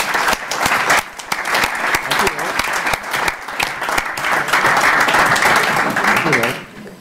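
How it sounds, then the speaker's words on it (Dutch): A room full of people applauding at a municipal council meeting, dense sustained clapping with a few voices mixed in, fading out near the end. "laat dit applaus een blijk van onze waardering en erkentelijk voor jou en jouw team zijn."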